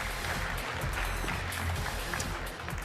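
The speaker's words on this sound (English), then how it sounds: "Big round of applause." Audience applause at a TechCrunch Disrupt tech conference in New York, a dense steady wash of clapping filling the room for about three seconds at moderate level, with a faint voice underneath.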